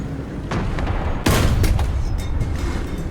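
A tank cannon booms in War Thunder during a fight with a Panzer IV, one loud sudden blast cutting through steady engine rumble, followed by fainter clanks and echoes, no voices.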